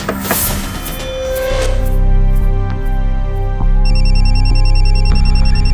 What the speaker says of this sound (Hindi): ये बुल्लर अंकल का फोन आ गया।